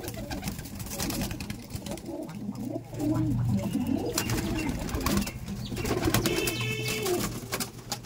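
Domestic pigeons in a loft, including young birds and fancy breeds, coo in low, repeated throaty bursts close by, with rustling and a faint engine hum behind.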